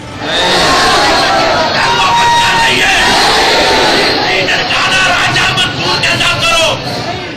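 Hundreds of people massed at Nankana Sahib Gurdwara in Pakistan make a loud, continuous roar of shouting and yelling, with many voices blending into one dense crowd din.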